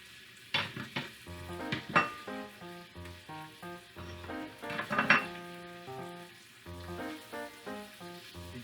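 Vegetables sweating and sizzling in a pot while a tomato bisque is started, with a steady close fry under occasional stirring scrapes and clinks of a utensil against the pan.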